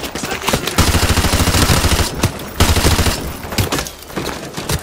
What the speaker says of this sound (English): We got 240s and RPGs in the dining room window, plus L-86 machine guns